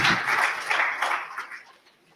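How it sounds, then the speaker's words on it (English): An audience at a Gambian independence-themed gathering claps in a dense burst that fades steadily to quiet over about two seconds. "A round of applause, people."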